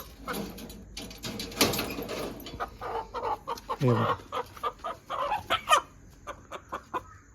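A rooster at a roadside dhaba in Murbad clucks and squawks in a busy burst of short calls, close and fairly loud, with other fowl chattering around it.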